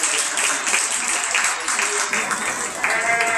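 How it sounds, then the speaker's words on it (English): Spectators applaud at a youth lamb show in an arena, with continuous scattered clapping throughout, fairly close and steady, plus some voices mixed in. "let's give these kids a round of applause for being out here in our champion drive."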